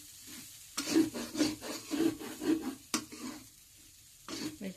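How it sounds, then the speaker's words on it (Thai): Vegetables and rice with egg and sausage stir-fried over low heat in an electric pan, giving a run of rhythmic scraping stirs with a soft sizzle beneath, pausing briefly, then resuming. "คั่วผัดธรรมดานี่แหละ ไฟเบา"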